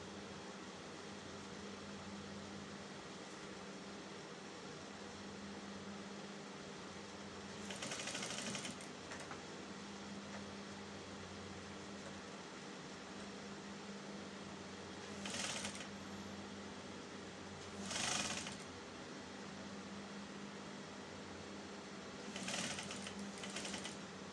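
Sewing machine stitching the neckline of a flare umbrella blouse, heard as a quiet steady motor hum under room noise, with a few short louder bursts of stitching spaced several seconds apart.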